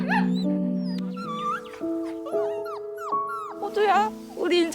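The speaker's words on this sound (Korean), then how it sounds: "강아지들이었죠" In a Netflix drama, dogs whimper and yip in high, wavering whines that come in short overlapping bursts. They sound over music and voices, with a few yelps near the end.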